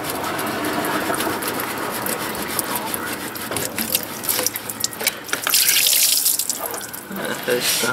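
Water spraying and leaking from a broken new garden hose outdoors, a steady close hiss and splatter that grows louder and brighter near the end, with no talk.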